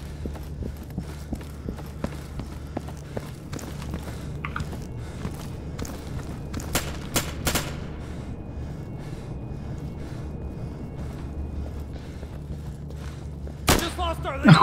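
Gunfire in a 5-versus-5 Insurgency Firefight match: a few sharp, loud shots cluster near the middle and another near the end, over a steady low in-game hum with scattered footstep-like clicks.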